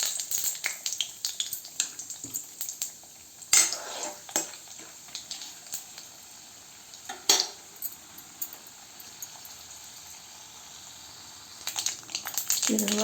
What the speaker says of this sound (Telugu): ఆయిల్ వేడెక్కిన తర్వాత తిరగబాత గిన్నెలో వేసేసుకొని